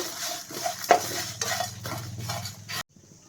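Ingredients for a raw mango rasam are roasted in a pan, with a spoon scraping and clinking against the metal in quick uneven strokes for about three seconds. The sound stops abruptly into near silence.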